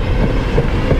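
A passenger train running in the Passenger Train Simulator video game, a continuous, close, heavy rolling rumble with faint rhythmic rail clatter and no pauses.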